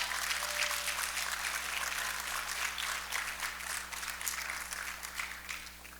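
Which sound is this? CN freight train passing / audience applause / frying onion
audience applause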